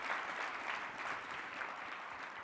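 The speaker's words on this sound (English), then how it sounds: "I'd like us all to give Marcus another round of applause" Audience at a national mentoring summit applauding Marcus, a steady, soft wash of many hands clapping from a distance, continuous for a couple of seconds with no voices.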